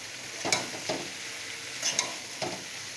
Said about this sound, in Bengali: লাউটা দিয়ে দেব। দিয়ে সুন্দর করে মিশিয়ে নেব মশলার সঙ্গে